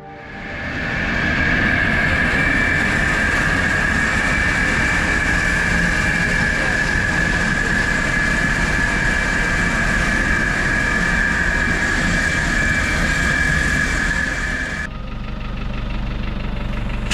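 A small Wickham trolley's engine runs steadily at Horsted Keynes station on the Bluebell Railway, a loud, droning mechanical hum that holds for most of the stretch before dropping to a lower rumble near the end.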